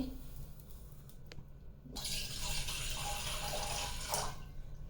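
Water splashes and pours into a small pan for a couple of seconds, a bright close gushing that follows a few faint clinks.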